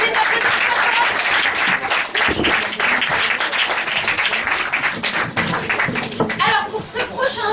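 An audience at an improv comedy show applauds loudly and steadily, dense clapping sustained throughout with a few thumps and faint chuckles mixed in.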